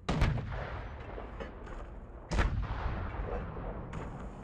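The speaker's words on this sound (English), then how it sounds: "Reload cannon." Two heavy cannon blasts from a ship in the sailing video game Sail, one right at the start and another about two seconds later, each followed by a rumbling, fading boom.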